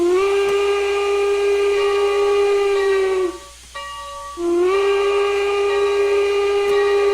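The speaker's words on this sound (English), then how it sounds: "the reason I'm trying to sound the whistle like this so often" A steam locomotive whistle in the Railworks train simulator sounds loud and close, a long steady blast that cuts out briefly, gives a short chirp, then resumes as another sustained blast.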